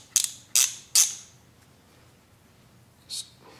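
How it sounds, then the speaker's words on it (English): A 3/8-inch drive finger ratchet clicks through three short, sharp bursts close by, with one more click a moment later, while a Harley-Davidson M8 107 engine is torn down in a quiet shop. "You know what's handy is these little like finger ratchets."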